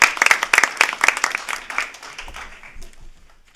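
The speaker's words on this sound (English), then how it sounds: "Now you can clap." Brief round of clapping from the audience at a school district board meeting, brisk and fairly close at first, then thinning out and dying away within a few seconds.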